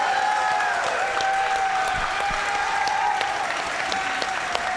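A crowd applauding at the Classic Tetris World Championship semifinals, a dense, sustained wash of clapping from many hands, with a faint voice or tone running underneath.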